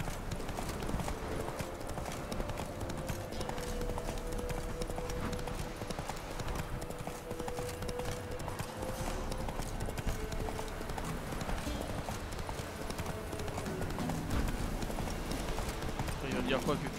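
Horse hooves clip-clop at a steady galloping rhythm in The Witcher 3, continuous and fairly close, mixed with game music and someone talking over it.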